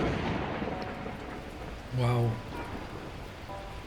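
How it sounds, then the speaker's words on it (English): Torrential rain with rumbling thunder in the video game Beacon Pines, a steady wash of noise throughout, with a voice exclaiming briefly over it. "At that moment, the heavens opened up, unleashing torrential rain."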